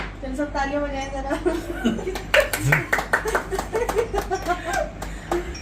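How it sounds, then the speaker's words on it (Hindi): A small group claps hands in a loose, uneven patter of close claps, mixed with chuckling, laughter and talking. "सब तालियां बजाएं जरा।"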